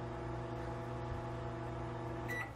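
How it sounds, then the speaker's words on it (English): A microwave oven hums steadily inside an RV, a continuous mains drone with layered harmonics, ending with a brief faint beep-like tone near the close. "We'll run the microwave."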